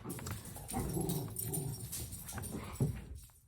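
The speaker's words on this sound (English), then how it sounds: "excuse my dogs" Dogs bark and whimper indoors in a room, a busy run of close, fairly loud yelps and whines that carries steadily through the clip and tapers off at the end.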